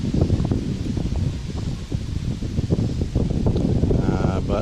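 Wind gusts steadily across a creek while fishing, producing a loud, continuous buffeting roar with rustling texture and no pauses.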